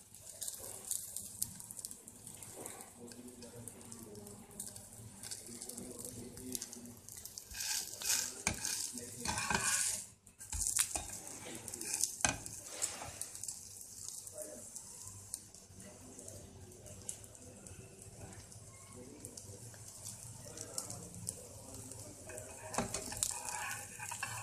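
Potato pancakes fry in a pan, a low steady sizzle with scattered crackles and occasional clinks, fairly faint and continuous over a long stretch, briefly dipping near the middle, with some faint voice in the background.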